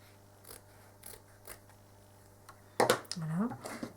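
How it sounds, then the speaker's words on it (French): Small round-tipped scissors snip through fabric in quiet, separate cuts at an even pace, followed by a person talking over the last part. "Il existe des petits ciseaux avec des bouts arrondis comme ça."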